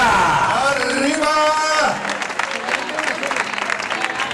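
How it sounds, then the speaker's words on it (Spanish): A crowd applauds at the start line of a 10K road race in Zaragoza as a runner is introduced, clapping mixed with cheering. An announcer's voice comes over it, then the clapping thins into scattered claps. "Un fuerte aplauso para el dorsal número 1, Toni Amaya."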